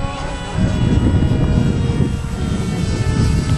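The engine of a radio-controlled 3D model airplane drones loud and close during a parachute maneuver, a rough, low propeller buzz that swells slightly after the first half second and holds steady.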